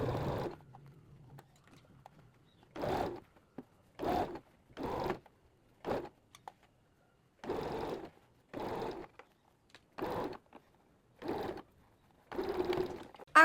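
Sewing machine stitching a collar stand onto the front of a garment in short bursts, roughly ten quick runs of rapid mechanical chatter separated by pauses, close and fairly quiet.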